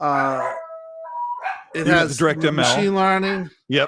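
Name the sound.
dogs barking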